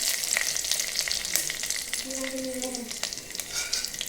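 Curry leaves and dal crackle and sizzle steadily in hot oil in a pan, a dense close spitting hiss with scattered sharp pops throughout.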